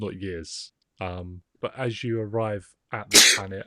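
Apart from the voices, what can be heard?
sneeze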